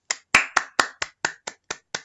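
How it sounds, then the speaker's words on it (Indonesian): Nine crisp, separate hand claps in a steady rhythm, close and loud in a quiet room, each sharp and dry with a fast decay and silence between them. "Weh, tepuk tangan ya"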